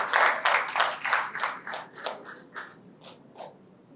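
Audience at a Bursa Malaysia corporate talk series gives a round of applause for a speaker, a burst of close hand claps that starts strong and thins out over about four seconds.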